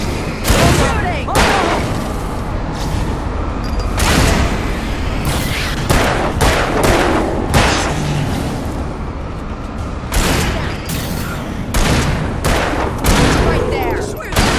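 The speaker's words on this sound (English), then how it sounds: "Shooting." Gunfire in the action game Alan Wake during a standoff while waiting for an elevator, repeated sharp loud shots and booms spread throughout, mixed with voices talking over the fighting.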